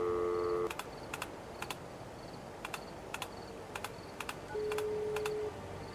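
Phone keypad dialing in the Dimhaven video game: a run of short, evenly spaced electronic tone beeps pressed one after another, with a steady sustained tone at the start and another near the end, over a faint background hum.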